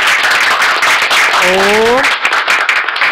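Devotees clap together at a Jain temple ceremony, a dense, steady patter of many hands running throughout, with a chanted voice rising briefly in the middle.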